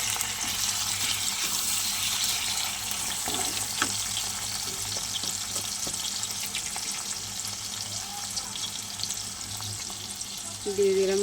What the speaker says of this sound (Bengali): দিয়ে দিলাম চিংড়ি মাছ